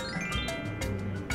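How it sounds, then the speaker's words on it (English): A short magic chime effect used in a phonics lesson, bright tinkling bell-like tones ringing in quick succession over about a second, clear and alone. "I'll play a magic sound like this."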